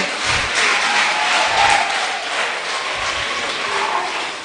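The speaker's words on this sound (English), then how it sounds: "People, please clap for them." Audience at a peer education workshop in Rwenzori applauding performers, a dense, steady wash of clapping held at an even level throughout with no voices over it.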